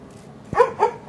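A trained dog at a demonstration in a hotel, before an audience, gives a short series of close, loud barks and yips. A quiet stretch comes first, then three quick barks in the second half.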